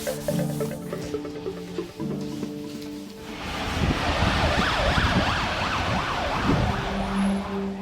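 An ambulance arrives at Birmingham's Queen Elizabeth Hospital. Its wailing siren cuts in about halfway through and rises over low traffic and engine rumble, sweeping up and down steadily and sounding close by.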